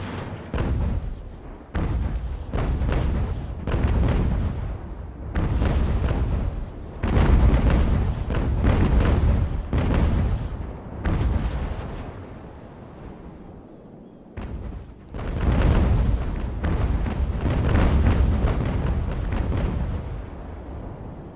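Sailing ship cannons in Ultimate Admiral: Age of Sail fire in repeated heavy booming volleys, many shots in clusters with short lulls between, deep and loud and rolling on with no talk.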